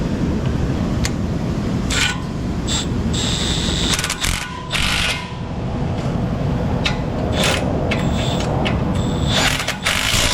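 A ratchet wrench turns a bolt on a car in an auto repair shop, with a loud, continuous mechanical rasp broken by short sharp clicks and metallic clatter close by.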